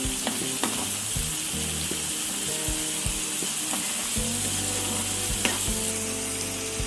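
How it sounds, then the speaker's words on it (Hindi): Onion puree frying in a pan for a cashew curry as tomato puree goes in: a steady, close, loud sizzle with scattered scraping and clinking ticks throughout, and no voices. "अनियन की प्यूरी थोड़ी सी गोल्डन ब्राउन होने के बाद हम इसमें टमाटो प्यूरी ऐड करेंगे।"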